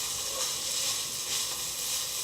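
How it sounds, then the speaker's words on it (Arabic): Button mushrooms fry in a pan without oil, giving a steady soft sizzle with faint crackle and a brief stir, close and fairly quiet throughout. "ونزيد هاد الشامبينيون ديال البنات حتى يطيحوا في المقله شويه"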